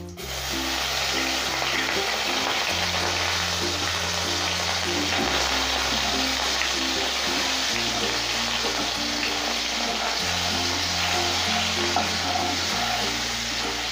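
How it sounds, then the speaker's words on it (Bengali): Turmeric and chili powder masala frying with a splash of water in a pan, giving a loud, constant bubbling sizzle throughout, with a low rhythmic hum underneath. "এইভাবে আমি একটু কষিয়ে নেব।"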